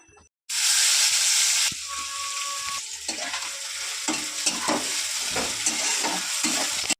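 Chopped onion and garlic hit hot oil in a pan with a sudden loud, bright sizzle that holds steady, broken by scraping stirs, close up with no talking.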